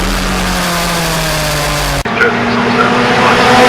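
Historic Formula Ford race cars at Brands Hatch roar past in a steady, loud engine drone whose pitch slides downward, then a brief cut and another car's engine note rising again.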